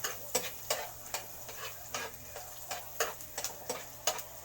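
Garlic sautéing in a pan for garlic butter shrimp, with a series of short, crisp scraping and clinking hits from stirring at a steady, uneven rhythm over a faint background hiss.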